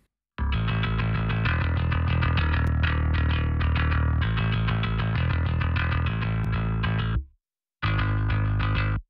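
Heavily distorted electric guitar chords through a tube EQ ring out loud and continuous, with a short break near the end before playing resumes.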